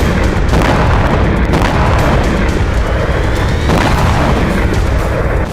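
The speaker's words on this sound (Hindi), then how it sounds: "यूक्रेन के ड्रोन तेल डिपो और गैस के भंडार से टकराते ही बहुत बड़ा धमाका कर रहे हैं।" A Ukrainian drone strike on an oil depot sets off a very loud, sustained explosive roar, with repeated heavy booms and crackling bursts rolling over a continuous rumble and no pause for several seconds.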